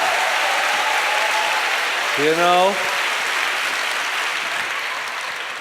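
Audience at a church talk applauding and cheering, a steady dense wash of clapping throughout with a man's brief spoken phrase cutting in midway.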